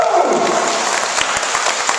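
Brief applause for a child named Peyton at a school assembly, a crowd of kids clapping loudly and close for a couple of seconds.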